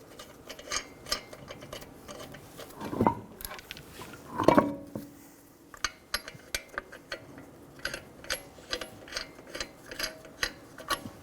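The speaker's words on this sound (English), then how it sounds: "Snug down the lug nuts." A ratchet wrench clicks in quick bursts while snugging lug nuts on a 2007-2011 Toyota Camry wheel, with a couple of heavier metallic clanks partway through.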